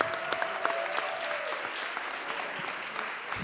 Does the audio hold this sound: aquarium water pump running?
no